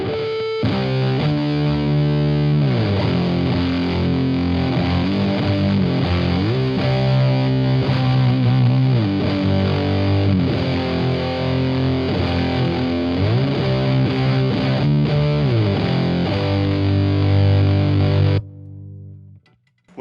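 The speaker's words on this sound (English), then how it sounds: "It's the Black Art Toneworks Musket Fuzz." Electric guitar through a Black Art Toneworks Musket Fuzz pedal plays a thick, heavily saturated riff with sliding chords, loud and continuous for most of the stretch before cutting off abruptly near the end.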